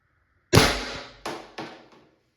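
A First Strike FSC less-lethal launcher fires a BK Kinetics round with one sharp, loud pop, followed by two quieter cracks of the impact or echo that fade within about two seconds.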